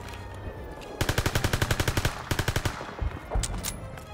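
Bursts of automatic gunfire in the World War II shooter Call of Duty: WWII, with a rapid string of evenly spaced shots, a short pause and then another burst, followed by scattered single shots and battle noise.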